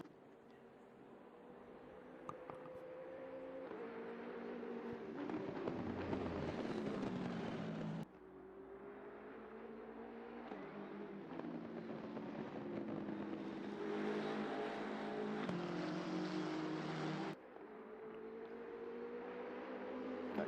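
Race cars lapping the Nurburgring in the ACC racing game, a steady engine drone rising and falling with gear changes and abrupt cuts between onboard views, loud and continuous with no talk.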